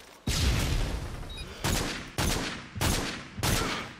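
Video game auto sniper rifle fire: four or five loud, sharp blasts spaced roughly half a second to a second apart, each followed by a decaying boom, with no talk.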